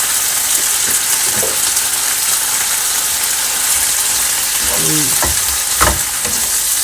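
Stir-fried morning glory with crispy pork sizzling loudly in a wok, a continuous dense frying hiss with a few brief clatters and scrapes of stirring near the end, no voices.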